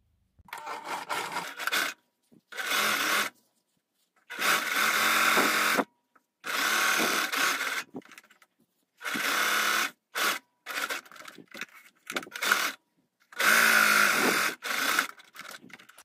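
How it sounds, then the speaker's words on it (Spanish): A sewing machine stitches the two ends of a fabric square for a coquette bow, running in about nine short bursts of varying length separated by brief silences, close and clear with no talking. "vamos a coser los dos extremos"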